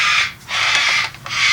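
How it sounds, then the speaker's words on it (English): A pet parrot indoors lets out loud, harsh squawks at close range: two long raspy calls separated by a brief pause, with no voices. "Sorry about that noise. It's my parrot."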